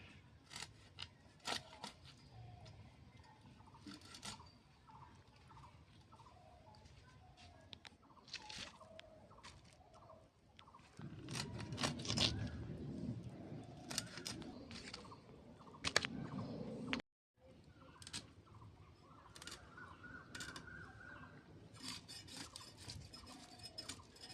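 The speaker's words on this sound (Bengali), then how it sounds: "মাছটাকে এবার আমি দুখাদি করে কেটে নেবো" A whole fish is cut into pieces at home with a blade, giving faint, sporadic scraping and crunching cuts with short pauses between them. The sound is close but quiet, and there is a brief dropout near the end.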